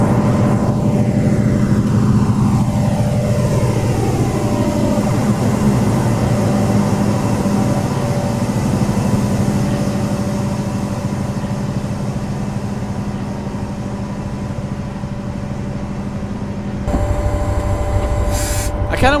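Locomotive engines running in Train Simulator 2017, a steady loud diesel drone with a low hum and tonal whine throughout, shifting slightly near the end, with no talk.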